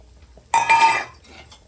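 After a brief quiet moment, semolina is added to boiling water and a spoon scrapes and clinks inside the metal pot, a short burst of stirring that fades out.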